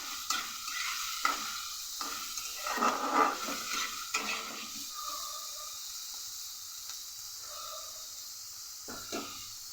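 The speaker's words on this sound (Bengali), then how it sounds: "এবার সব সবজি ভালো করে ভেজে নেব" Mixed vegetables frying in a pan, with a soft sizzle under repeated scraping and stirring strokes of a spatula against the metal, some sharper clinks, fairly close and moderately quiet, no voices.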